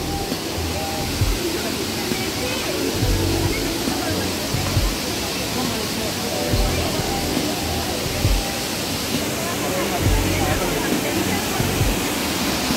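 Steady broadband roar of the Krang Suri waterfall in Meghalaya, a constant rushing wash of falling water heard close and loud throughout, with faint low thumps and people talking in the background.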